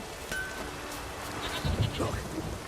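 Rain in the video game The Witcher 3, a steady soft hiss of falling rain filling the background, with brief game sounds and a low rumble rising near the end.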